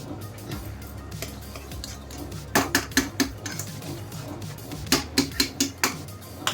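A spoon stirs ghee into banana kesari in a pan, scraping and clinking against the metal in quick bursts of rhythmic knocks over a low, steady background.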